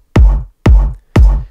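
Three punchy kick drum hits processed with a Saturn multi-band saturation distortion plugin, evenly spaced about half a second apart, each with a loud boomy attack and a gritty, distorted decay, heard alone.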